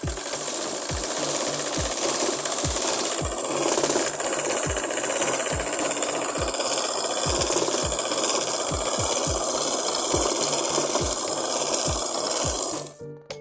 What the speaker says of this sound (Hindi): पोंचों में एक सिलाई लगा दी है।